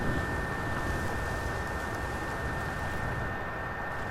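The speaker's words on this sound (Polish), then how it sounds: "niestety to słychać jak jakby odkurzacz pracował, a to niestety jest moja konsola" A PS4 Pro console fan roars with a loud, steady, vacuum-cleaner-like whoosh and a constant tonal whine, unchanging from start to finish.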